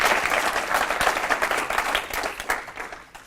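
An audience applauding at an evening stand-up comedy show, dense sustained clapping from a room full of people that fades slightly toward the end.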